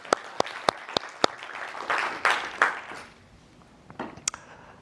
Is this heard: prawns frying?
no